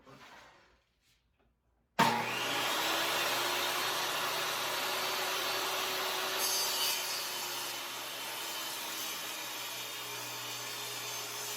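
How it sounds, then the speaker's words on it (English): A table saw starts up and rips walnut strips for an end grain cutting board, a sudden steady loud whine with a low hum that holds throughout, joined partway by a slight rise as the blade cuts. "we're back over at the table saw to cut strips of for the end grain cutting board"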